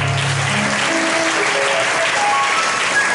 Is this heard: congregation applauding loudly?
yes